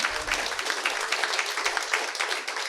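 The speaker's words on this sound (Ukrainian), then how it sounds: "дайте Віталію трошки оплески" Audience applause at a comedy improv show in Ukraine, a crowd clapping steadily and densely for a few seconds with no voices on top.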